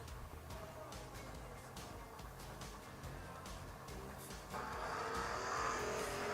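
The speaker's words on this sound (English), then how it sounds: "Little S10 pick 'em up truck." A Chevy S10 pickup truck makes a time run across water at a shore racing event, its engine a steady distant roar with spray hiss that grows louder toward the end.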